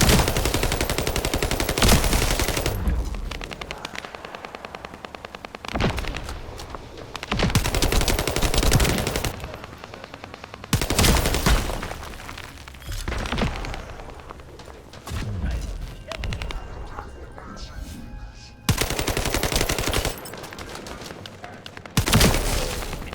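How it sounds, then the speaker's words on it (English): Gunfire in The First Descendant, loud sustained automatic bursts repeating every few seconds with brief pauses between them, and someone talking at times. "I see those things, I shoot them."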